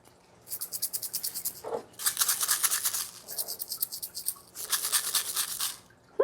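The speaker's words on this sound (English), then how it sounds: "I wonder if I put the onions in the egg shaker," Dried onion pieces rattling inside a small egg shaker, three bursts of quick rhythmic shaking with a soft, gritty rattle, close and fairly quiet.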